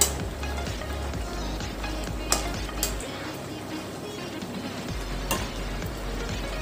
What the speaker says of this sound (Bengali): আরো 5 মিনিটের মতন আমি ঝোলটা ফুটিয়ে নেব।